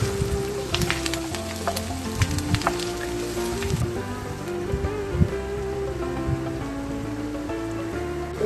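Chopped onion with cumin and curry leaves sautéing in a pan, a steady, close sizzle with crackling pops and a few utensil clinks, no voices.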